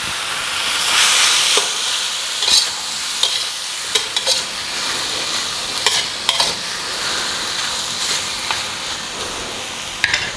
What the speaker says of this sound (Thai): พอเราผัดไก่กับเครื่องแกงมาจนไก่เริ่มจะสุกนะครับ